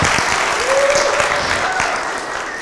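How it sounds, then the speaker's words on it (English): An audience at a livestreamed event applauds in a dense, steady wash of clapping that stays fairly loud and gradually eases off toward the end. "I'm not sure if those applause were for me or for Afra"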